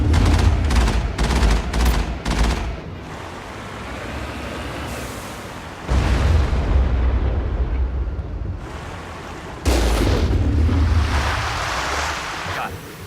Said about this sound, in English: Find a way to disable their artillery